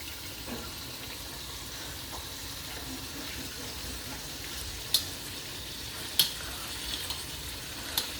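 Shrimp browning in a pan for pineapple shrimp fried rice, with a steady broad sizzle and a few sharp clinks of a utensil against the pan toward the end.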